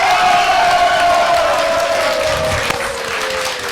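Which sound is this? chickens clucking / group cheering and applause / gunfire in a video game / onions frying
group cheering and applause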